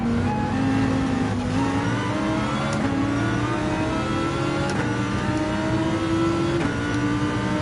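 GT3 race cars in Gran Turismo 7 roar continuously, engines revving and shifting up through gears in a loud sustained racing drone, with no voices.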